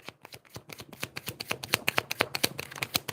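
A deck of tarot cards being shuffled close up, a quick run of crisp riffling snaps that grows louder toward the end.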